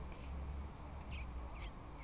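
At a leisure park, a man imitates birds with his voice. He makes four faint, brief, high chirps, evenly spaced over a low outdoor rumble.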